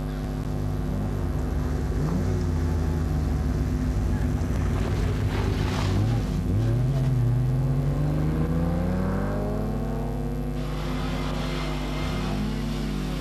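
An Austin-Healey rally car, driven hard at a 1994 youngtimer rally between Köln and Ahrweiler, roars with a rising and falling engine note as it revs through the gears, under heavy rushing wind noise.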